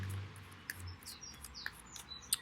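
Small birds chirp and tweet outdoors around sunset, short bright calls scattered across the clip at moderate distance, over a low steady rumble of distant traffic.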